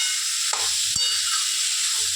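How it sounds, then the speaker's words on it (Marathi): Tomato chutney stirred in a hot pan gives a continuous close sizzling hiss, with two sharp knocks of a spoon against the pan and soft scraping between. "असं मस्तपैकी हलवून घेतलं मी"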